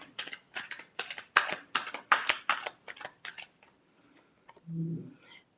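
Tarot cards being shuffled in quick bursts of crisp riffling and flicking for several seconds, fairly close and moderately loud, followed by a brief low thud and a soft rustle.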